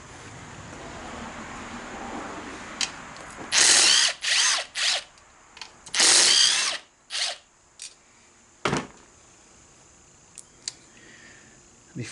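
A power drill removes bolts from a Ryobi pressure washer in several loud whirring bursts of about a second each, separated by quieter gaps, with a few sharp metallic clicks and ratcheting sounds in between.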